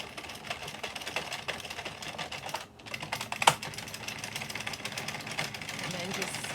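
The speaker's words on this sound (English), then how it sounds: "And then all I do is crank until all this is back on the machine." A hand-cranked knitting machine being turned to cast on, giving a steady run of light mechanical clicks and rattles that continue close by throughout.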